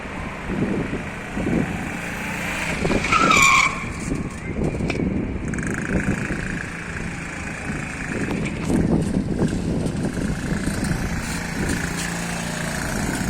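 An Emek Motor three-wheeled motorcycle for disabled riders, with a four-speed semi-automatic gearbox, drives along a road with a steady engine buzz under wind noise, passing traffic and scattered clatter.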